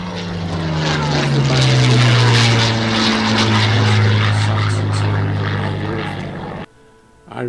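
A Spitfire aircraft's propeller engine roars overhead, loud and close, with its pitch sliding downward as it passes before fading quickly.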